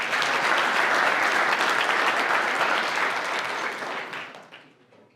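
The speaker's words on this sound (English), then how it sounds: "Give him a round of applause, folks" A workshop audience on public speaking bursts into loud, dense applause from a large crowd of about 300 people. It holds steady and then fades out over the last second.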